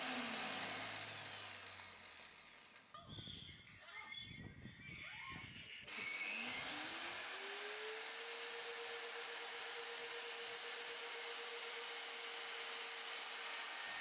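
A power drill bores into a hard wheel bolt, with some rattling and handling at first, then a steady high whining drone that holds evenly for several seconds, close and fairly loud.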